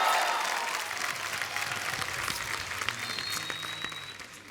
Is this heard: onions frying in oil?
no